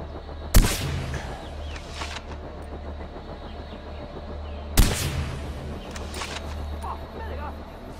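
Two sharp, loud gunshots in the first-person shooter Far Cry 4, spaced about four seconds apart, each with a short echoing decay over a low engine-like rumble and quiet game ambience.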